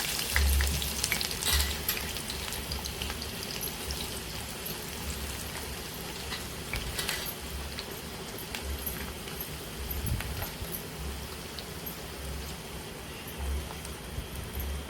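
Onions fry in hot oil with a continuous crackling sizzle and scattered pops, heard up close and fairly faint. No one speaks.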